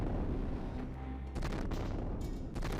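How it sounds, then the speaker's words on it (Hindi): Explosions across a Ukrainian city after a Russian missile attack, a dense rumbling barrage with repeated sharp bursts and booms over continuous low roar. "रूसी अटैक के बाद शहर के इलाकों में तेज धमाके सुनाई दिए।"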